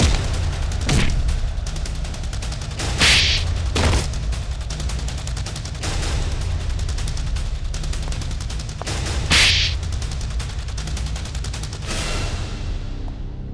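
Gunfire in a Hindi crime drama scene, a series of sharp, loud gunshots spaced unevenly over a dense, continuous background of dramatic music.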